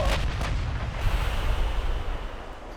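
Naval gunfire and a torpedo strike in Ultimate Admiral: Dreadnoughts, heard as a deep, sustained rumbling boom with a roaring low-end wash that holds steady for a few seconds and then slowly fades.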